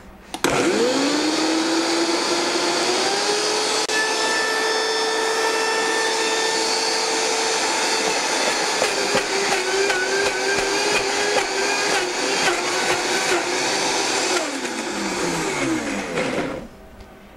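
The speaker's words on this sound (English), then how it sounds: "I'm going to run the blender and then add the rest." A blender whirs loudly and steadily for about fifteen seconds blending carrots for spinach dip, pitch shifting slightly as it runs, then winds down and stops.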